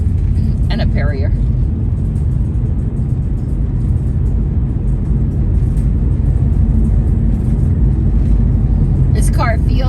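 Steady low road rumble fills a moving car's cabin, constant and close, with a few faint higher chirps near the start and end.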